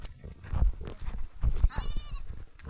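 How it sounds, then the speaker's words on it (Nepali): Goats bleating at a village in Khotang, several overlapping calls with one clear wavering bleat, moderately loud over scuffling and rustling background noise, no speech. "खोइ बाख्राहरू"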